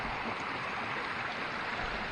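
Seneca Creek flows in the West Virginia backcountry near Spruce Knob as a steady, continuous rush of water, close and unbroken, with no voices.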